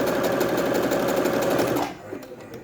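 A Brother sewing machine running a zigzag stitch, a close, steady rapid mechanical whirring and clatter that stops abruptly near the end, leaving a few faint clicks.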